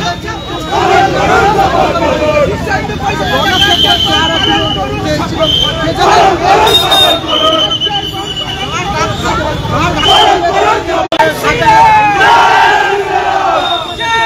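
A street protest crowd shouts and chants at Sevoke More in Siliguri, where tires are being burned to block the road, a dense, continuous roar of many voices up close with rising cries throughout.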